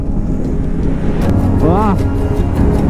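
A motorcycle engine revving on a high mountain road through the Spiti Valley, a steady loud drone under heavy wind and road rush, with a brief rising-then-falling rev swell midway.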